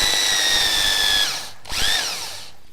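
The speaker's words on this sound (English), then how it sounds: "wait for the drill to stop before you pull it out" Power drill boring a hole, two close, loud bursts of high whine with the motor pitch sagging and winding down, a brief gap between them.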